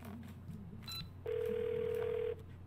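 Telephone call to the police in the game Twelve Minutes: a brief handset click, then a steady, clear dial tone lasting about a second over a low background hum, close and moderately loud.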